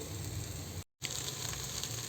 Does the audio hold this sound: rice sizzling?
yes